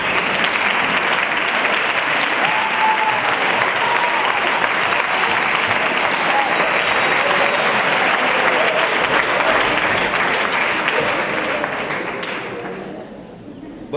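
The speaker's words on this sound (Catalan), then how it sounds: "Un fort aplaudiment per al director del Teatre Nacional" Loud sustained applause from a large audience at the 2015 AAPV Valencian actors' awards gala, a dense unbroken roar of clapping for about twelve seconds before dying away quickly into near quiet.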